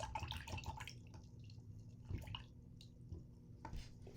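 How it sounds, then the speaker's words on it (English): An acrylic paintbrush is swished and rinsed in a water container, giving soft dripping, sloshing and squishy splashes that run steadily at close range, with a few sharper taps and no talking. "Okay, so I'm going to wash my brush."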